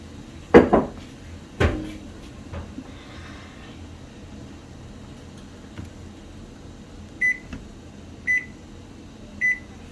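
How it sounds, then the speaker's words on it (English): A couple of clicks and knocks of handling a kitchen timer, then three short electronic beeps spaced about a second apart as buttons are pressed to set it. "you're going to set the timer for 3 minutes."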